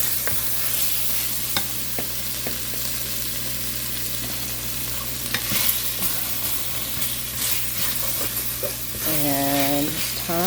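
Sausage with rosemary, black pepper and parsley frying in a soup pot for tomato kale sausage soup, a constant close sizzle broken by scraping stir strokes, with a short voice near the end.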